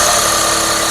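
A sewing machine runs steadily, stitching down the middle of gathered cloth, its fast, even mechanical whir close and loud for a brief moment with no talk.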